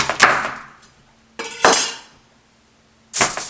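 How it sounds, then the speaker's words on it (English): A knife cuts through a hard Gete Okosomin winter squash in three separate bursts, each a loud thunk against the board followed by a cracking, scraping stroke, close by with no talking. "I'm going to cut them up to the size appropriate for putting on this pan"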